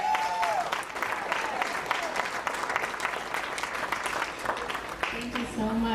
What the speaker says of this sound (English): So we want to give them a round of applause.